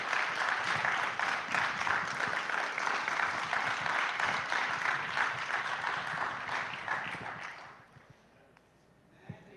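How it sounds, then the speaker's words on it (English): A roomful of people applauds a woman after she shares her story at a talk on trauma and healing, sustained even clapping that gradually dies away into near quiet with a final stray clap. "Can we give her a round of applause for her courage?"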